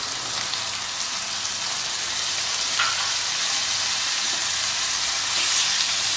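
Tomatoes dropped into mutton frying in a pan for bhuna gosht, giving a steady, close, even sizzle with a hissing wash that holds at one level throughout and no talk over it.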